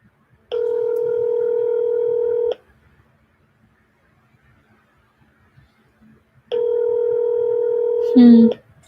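Phone call ringing out unanswered, two long, loud electronic ring tones separated by a few seconds of silence, with a brief voice starting near the end.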